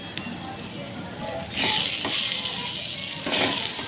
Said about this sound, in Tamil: அது வரைக்கும் நல்லா ஆயிலில் போட்டு வதக்கணும்